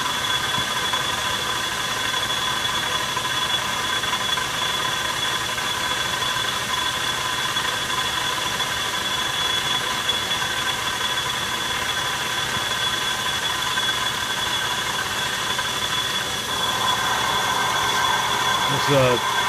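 A metal lathe turns at 250 RPM while making a spindle guard nut, giving a steady machine drone with a high whine that runs the whole time, then a brief squeal near the end.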